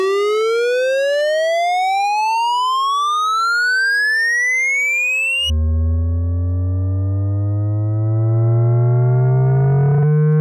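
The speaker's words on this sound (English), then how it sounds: "So that's the riser that I used at the beginning of this" A Massive synth pitch riser from an accordion patch: a loud, bright, harmonic-rich tone sweeping steadily upward for several seconds, then switching to a lower, buzzier layered tone that climbs slowly again.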